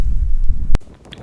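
Strong wind gusting against the microphone on a coastal walk at Holy Island, Lindisfarne, Northumberland, a dense low rumble buffeting for most of the moment, then a sharp cut and a thinner, quieter stretch.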